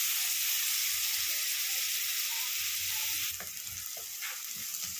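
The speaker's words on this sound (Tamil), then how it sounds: "இது லைட்டாக வந்து கோல்டன் ப்ரௌன் வர வரைக்கும் நம்ம கொஞ்சம் அப்படியே வந்து ஃப்ரை பண்ணிக்கலாம்" Chicken pieces fry toward golden brown for spicy pepper chicken, making a continuous bright sizzle and hiss close by, with a few faint stirring clicks toward the end.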